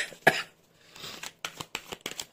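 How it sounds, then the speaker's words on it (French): One sharp, close cough bursts out near the start during a tarot reading, followed by soft rustling and light tapping of cards. "Bon voilà, je tousse, je renifle."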